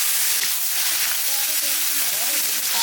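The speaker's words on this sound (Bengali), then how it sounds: "পেঁয়াজটা একটু ভেজে নিয়েছি" Onion frying in hot oil with cumin seeds, dried red chillies and whole garam masala, a steady close hiss and sizzle running throughout with no pauses.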